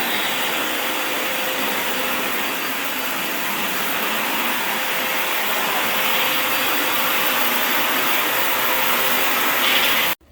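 Vacuum cleaner running continuously at a steady loud roar while cleaning the floor behind a sofa after a home remodel, then cutting off abruptly at the end.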